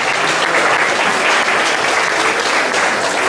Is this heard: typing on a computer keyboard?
no